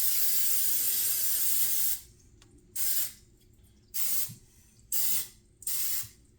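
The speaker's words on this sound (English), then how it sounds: "Now we're going to grease the bottom of this your plate. Alright. And this is just canola oil" Canola oil sprayed from a can to grease a pie plate: a continuous hiss, then four short separate bursts with quiet pauses between, close and clear.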